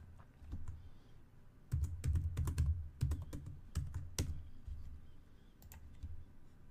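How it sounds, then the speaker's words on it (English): Rapid typing on a computer keyboard while entering a password during a Red Hat 8 installation, dense bursts of close, crisp key clicks with brief pauses, no speech. "Type in the password and then confirm the password."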